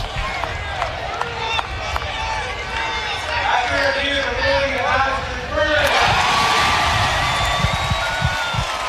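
A baseball crowd at an NCAA game between South Dakota State and Nebraska reacts to the umpires' verdict. Murmuring builds into a loud, sustained roar of cheering and shouting partway through, with some talk underneath.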